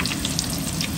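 Bread frying in a pan gives off a dense, steady sizzle and crackle, close and continuous with no pauses.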